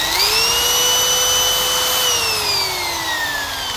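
A 430W rotary hammer drill runs with a loud, steady motor whine that holds its pitch, then slowly winds down toward the end, with no voices.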